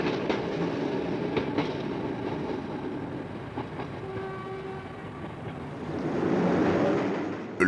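Sprague trainsets of Paris métro line 5 roll along the rails near the Gare d'Orléans viaduct with a loud, close, continuous rumble, rhythmic clatter and a brief tonal squeal, with no talking.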